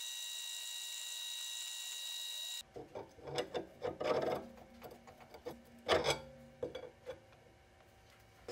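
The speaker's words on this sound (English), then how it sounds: "making the bevel deeper with the file" Rough rasping strokes of a hand file deepening a bevel on a metal bicycle head tube reamer facer, irregular bursts after a steady machine hum cuts out, close by.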